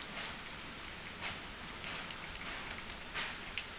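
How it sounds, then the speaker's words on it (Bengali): Light rain falls steadily and softly, an even wash of patter with occasional louder drops, heard close by with no voices. "বৃষ্টি পড়ছে হালকা হালকা"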